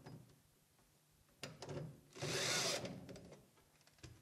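A power drill drives a screw into a trunk panel during a trunk kit install, one short burst of whirring lasting under a second after some handling clicks, close but quiet.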